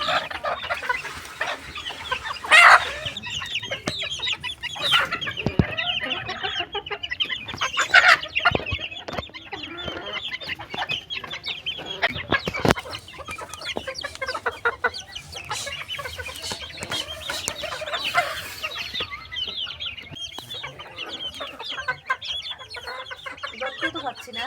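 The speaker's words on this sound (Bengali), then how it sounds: "আজকে একটা মুরগি নেব এখান থেকে" Chickens clucking and squawking in a farmyard, with repeated busy bursts and some scuffling close by, and occasional faint talk in the background.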